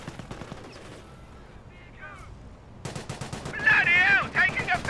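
Machine-gun fire from a Universal Carrier engaging Assault Grenadiers at long range in Company of Heroes 1. Quiet battlefield ambience gives way midway to loud, rapid bursts of automatic gunfire that continue to the end.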